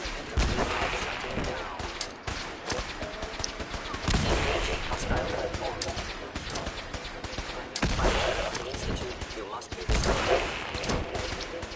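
Gunfire during a Fallout 4 firefight in Lexington, sustained bursts and rapid volleys crackling almost continuously, with heavier thumps surging every few seconds.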